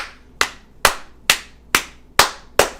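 Six sharp, evenly spaced claps in under three seconds, each with a quick decay, loud and close with no talk over them.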